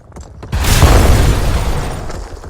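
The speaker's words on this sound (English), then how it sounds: "That sounded like an enormous cannon shot." A loud, deep boom like an enormous cannon shot erupts from an egg crashing near a pharaoh's palace in an animated episode, following a few faint knocks and rolling into a long, heavy rumble that slowly fades.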